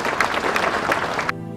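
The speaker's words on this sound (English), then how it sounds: "Give her a nice round of applause." An audience clapping briefly in a room, a dense patter of applause that cuts off sharply near the end.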